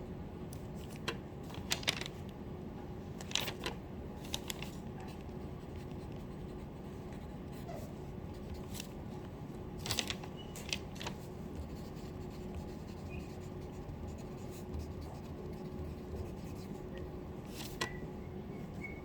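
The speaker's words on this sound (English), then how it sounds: "if you do a silly drawing of your heart, something like this" Pen drawing a heart diagram during a lecture, faint scratchy strokes and scribbles in bursts over a quiet room hum, with no talking.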